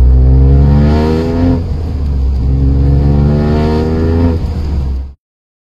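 Car engine revving up to about 3,500 rpm at night at a small rally in Villers-la-Grand, a loud steady drone with rising harmonics that climbs, dips and climbs again before cutting off abruptly.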